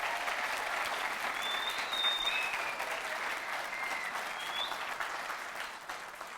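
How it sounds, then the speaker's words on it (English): A big round of applause from an audience welcoming panel guests at a women's sport awards event, sustained and even clapping that carries on throughout and eases slightly toward the end. "Give them a big round of applause."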